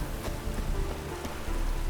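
Steady rain falling in The Witcher 3: Wild Hunt, a continuous close hiss of drops on surfaces with a few louder splatters, alone without talk.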